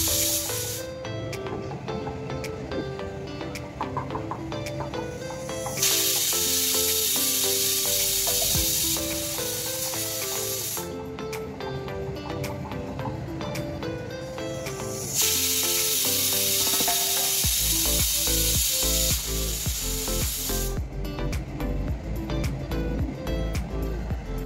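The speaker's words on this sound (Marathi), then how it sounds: "आणि आता कुकरला मी झाकण लावून 3 शिट्ट्या होऊ देणार आहे।" A pressure cooker whistles while sweet corn pulao cooks inside, letting out two long, loud bursts of hissing steam over steady background music.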